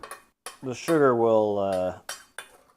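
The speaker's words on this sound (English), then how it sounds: "A little bit of that minced garlic. I'm going to stir this up." A metal utensil stirring minced garlic and sugar in a pot for Korean bossam side dishes, with a few sharp clinks and a drawn-out squealing scrape in the middle, close and alone.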